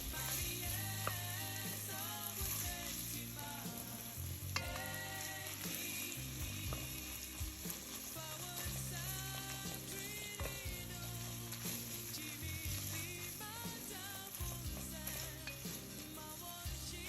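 Oil-drained canned tuna fries in a pan for a creamy pasta, giving a quiet, busy sizzle with crackles and clicks beneath louder background music.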